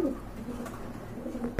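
Pet pigeons kept for sale, including racer, Bombay and Rajgolla types, give soft, low, rolling coos at close range, repeating over a quiet indoor background.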